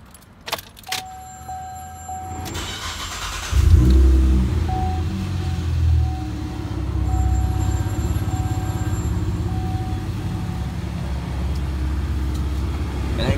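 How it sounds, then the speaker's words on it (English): A repaired car with front-end problems cranks over with keys jangling first, then its engine catches loudly and settles into a steady, close idle with a faint whine running over the rumble. "Let's start her up and see how she sounds."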